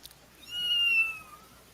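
A single drawn-out cat meow with rising and falling tonal harmonics, moderately loud and close, alone with no talking around it.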